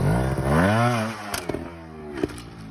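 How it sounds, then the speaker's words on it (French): A trial motorcycle engine roars up with a rising, revving whine, then drops to a rough idle punctuated by sharp clattering knocks. "je lance le moteur"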